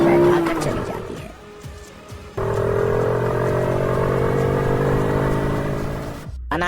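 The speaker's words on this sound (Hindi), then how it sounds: "चुड़ैल अपने बच्चे और समीर को बाइक पर बैठा कर चली जाती है" A motorbike engine revs and drones steadily as it carries riders off in a horror animation, fairly loud and sustained before cutting out near the end.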